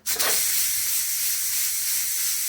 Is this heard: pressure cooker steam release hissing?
yes